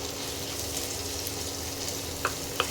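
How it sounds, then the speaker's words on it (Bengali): Onions frying in oil in a pan while cooking chicken chakuri, a soft steady sizzle running throughout, with two brief clinks near the end, and no talking. "পেঁয়াজটাকে একটু লাল করে ভাজতে হবে।"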